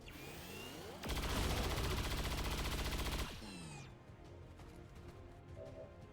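A chain shot in XCOM 2 unleashes a loud, sustained volley of gunfire lasting about two seconds, then cuts off into echoing tails and a quiet background.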